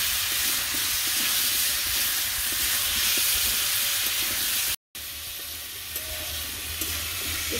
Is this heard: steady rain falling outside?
no